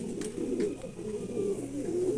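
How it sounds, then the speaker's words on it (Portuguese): Pigeons brooding eggs in a loft coo in repeated low, throaty phrases, close and fairly loud, with a few faint higher chirps and clicks in the background and no talking. "Então só deixar essa pombada chocar agora."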